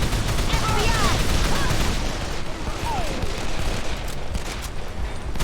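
Dense, continuous bursts of gunfire in the video game Call of Juarez: The Cartel rattle throughout, loud and close, with voices talking over the shooting.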